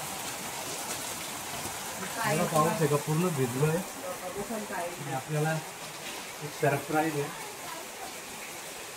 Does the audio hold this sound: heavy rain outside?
yes